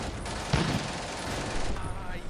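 An anti-tank rifle fires at a half-track in the wargame Combat Mission, with sharp reports over a steady, dense bed of battlefield gunfire and a voice talking throughout.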